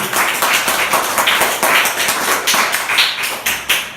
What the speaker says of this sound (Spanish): Ese aplauso que sea para el Señor Jesús.